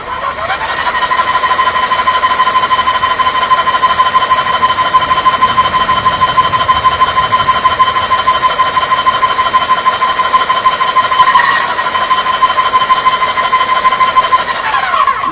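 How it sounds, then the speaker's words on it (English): An airless paint sprayer pump running steadily, a loud, fast mechanical buzzing chatter with a constant whine that holds for the whole stretch, with a brief change in the sound near the end. "See what happens when you let go of the trigger while the pump's running."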